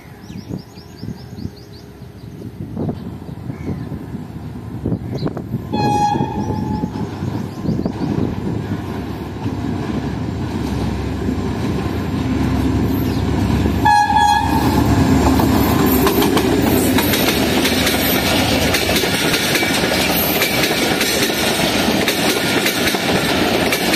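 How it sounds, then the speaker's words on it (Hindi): The 149 Up Mehran Express, hauled by an HGMU30 locomotive, arrives at Chanesar Halt station with a loud, steadily building rumble and clatter of wheels and coaches, wind buffeting the microphone and horn-like tones sounding around seconds 6 and 14. "ये आ रही है कराची और मीरपुर खास के दरमियान चलने वाली 149 अप मेहरान एक्सप्रेस, जिसकी लीड पर आज लगा हुआ है HGMU30"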